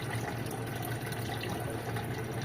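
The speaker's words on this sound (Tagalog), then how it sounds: "Ginawa ko yung drip method na inunti-unti kong dagdag ng tubig galing dito sa aquarium natin." Aquarium water runs steadily into a crayfish tank, a continuous close splashing trickle with no pauses and no voices.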